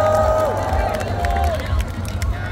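Audience applause and crowd noise fill a live concert in Bogor, a steady wash of clapping and cheering under a male announcer's voice throughout.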